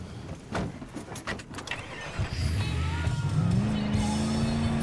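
Car driven in the shooter game Battlefield 4, the engine revving up and rising in pitch as it pulls away, preceded by scattered clatter and movement noise, loud and close.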